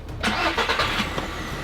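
An Audi A3 with an electrical fault is restarted using a jumper pack: a loud broadband burst as the engine catches, settling into a steady, close running rumble.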